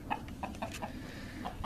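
A game fowl rooster clucks in short, soft, repeated notes, about half a dozen quick calls in an uneven rhythm, fairly faint against a low background rumble.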